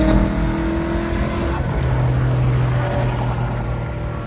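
A 2017 Ford Mustang exhaust rumbles in a steady, low, throaty drone with a deeper note swelling midway, fairly loud and close, with no talking.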